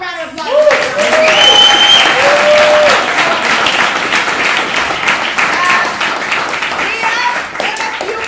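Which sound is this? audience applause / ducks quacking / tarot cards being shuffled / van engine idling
audience applause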